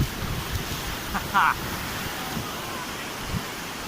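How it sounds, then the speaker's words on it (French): Ocean waves wash onto the shore in a steady, broad roar with wind buffeting the microphone and a brief faint sound partway through. "il y a l'océan juste devant moi"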